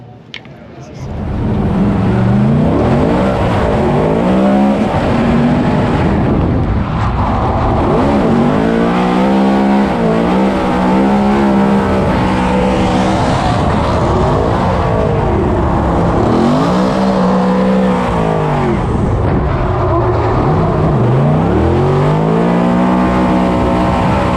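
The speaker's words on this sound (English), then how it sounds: "now he's going for a hot lap in the streets of Long Beach" A race car on a hot lap through the Long Beach street circuit, its engine roaring loud and close from onboard, revving up and down through gear changes with continuous high-pitched sweeps and no pause.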